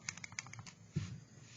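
Keys pressed on a TI-84 graphing calculator, a quick run of light, close plastic clicks followed by a slightly heavier press, with no voices.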